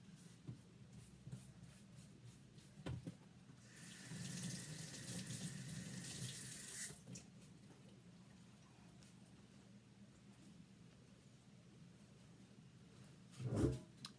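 Tap water runs into a sink to wash off lime chalk paste, a steady rushing stream of a few seconds, fairly quiet, with light handling noises before and a brief clunk near the end.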